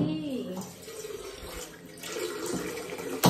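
Water runs steadily from a tap, splashing with a constant hiss, close by and moderately loud; people murmur faintly underneath.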